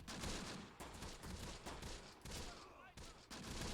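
Rapid bursts of small-arms and automatic gunfire from the WWII tactics game Close Combat: The Bloody First, dense and continuous with brief gaps, loud and close throughout.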